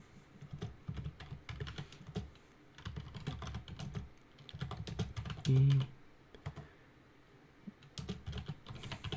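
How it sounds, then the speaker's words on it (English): Computer keyboard typing in irregular bursts of quick, close clicking keystrokes, with short pauses between runs and a louder thump partway through. "Sorry, I was typing."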